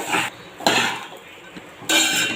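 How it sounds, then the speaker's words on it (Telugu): Turmeric rice being mixed with fried tempering in a metal pan, giving several loud scraping and clattering bursts of a spoon against the pan, close up with no talking. "అన్నం వేసుకున్న తర్వాత తాలి మొత్తం బట్టిగా కలుపుకోవాలి"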